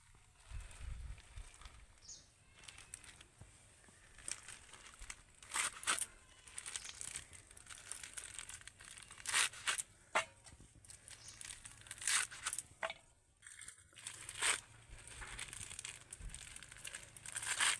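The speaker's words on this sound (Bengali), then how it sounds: "সবগুলো শাক আমি ভালো করে বেছে ধুয়ে তারপর জল ঝরিয়ে নিয়েছি এবার ছোট ছোট টুকরো করে কেটে নেবো" A knife chops freshly washed and drained spinach into small pieces on a board, giving irregular crisp cuts mixed with leafy rustling and crinkling. It is fairly close and continuous, with no talking.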